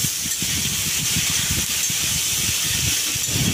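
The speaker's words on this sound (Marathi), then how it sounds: "कांदा खोबरं भाजूच तोपर्यंत आपण हे टमाटे पण टाकूया 2, ते पण भाजूया नरम होईपर्यंत." Tomatoes roasting in a pan with onion and coconut give off a steady, loud hiss and sizzle, with bubbling crackle underneath that carries on without a break.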